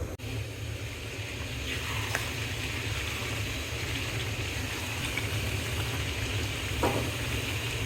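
Beef liver with new potatoes sautéing in a pan with spices, giving a continuous close sizzle and crackle with occasional stirring scrapes and clinks, no voices.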